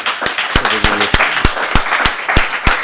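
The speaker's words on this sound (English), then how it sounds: "Can we have another round of applause for our speakers this evening?" An audience claps for the speakers at the close of an energy seminar lecture, loud and close, with distinct sharp claps standing out in a regular rhythm over a thinner spread of clapping from the room.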